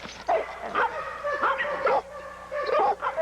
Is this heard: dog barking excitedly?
yes